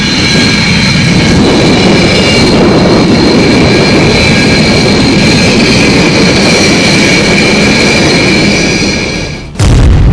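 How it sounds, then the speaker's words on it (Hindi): Fighter jet engines roar at the Aero India air show in Bangalore, a loud, steady, sustained thunder with a high whine on top that holds for about nine seconds, then cuts off abruptly before resuming. "यहाँ दुनिया भर के लड़ाकू विमान अपने बाहुबल का प्रदर्शन कर रहे हैं।"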